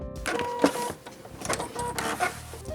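A sewing machine stitching bias binding around a corner, a steady mechanical whir with rapid needle ticking and small shifts in pitch, close and alone.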